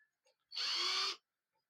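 A short burst from a power driver tightening bolts while fitting new planer blades: one steady, loud, high whirring run of about half a second, close by, with faint knocks before it.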